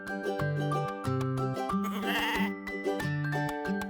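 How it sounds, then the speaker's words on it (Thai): A young goat kid bleats on a farm in a run of short, wavering cries, loud and close, with musical tones running alongside and no talking. "แม่แพะกับลูกแพะ ใช่แล้ว นี่คือลูกแพะ"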